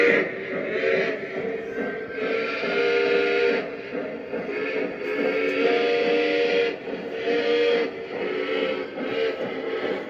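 A Lionel Legacy A6 model steam engine sounds its whistle in repeated chime-like blasts, some long and some short, over a faint running rumble, fairly close, with no talk.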